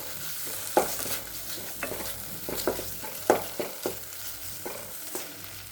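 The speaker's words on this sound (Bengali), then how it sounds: "দিয়ে আমি এটাকে একটু ভালো করে আরেকটু ভেজে নেব।" Chhana filling for stuffed pointed gourd fritters fries in a pan, giving a steady low sizzle broken by repeated scraping stirs of a spatula, close and with no talking.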